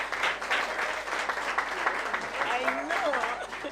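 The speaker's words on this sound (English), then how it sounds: "Let's clap for them." A debate-event audience claps for the second runners-up, a full, continuous round of applause from many people, with voices and cheers rising over it toward the end.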